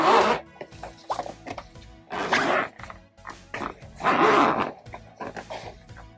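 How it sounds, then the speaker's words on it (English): A zipper on a breast pump's freezer bag pulled open and closed several times, each a quick raspy zip, close by with short pauses between. "So again, it has a nice zipper"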